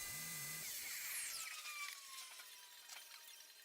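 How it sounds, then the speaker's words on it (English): A power saw cutting off small wooden slot pieces on a picture frame, a faint high whine that fades and tapers as the blade eases off, with no talking and low overall level. "So I'm just cutting those off, easing up on it, and then cutting the rest of them out."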